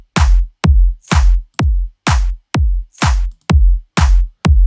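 Produced drum track with two layered kicks for extra punch and low end: a steady, driving pattern of heavy kicks and cracking snare hits repeating for nearly five seconds, loud and alone.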